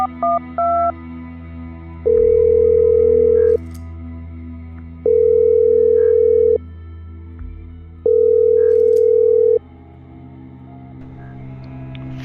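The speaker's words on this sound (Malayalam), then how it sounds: "ഫോൺ ഏറെ നേരം റിങ് ചെയ്തു" A phone call is placed: a few quick dialing beeps, then a steady ringback tone repeats three times, each lasting about a second and a half with equal pauses between, clear and close.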